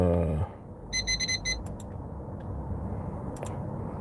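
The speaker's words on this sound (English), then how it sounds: "Well, alarm is a go." An alarm clock lets out a burst of rapid electronic beeps in quick clusters, then a couple of isolated chirps, over a constant low room hum.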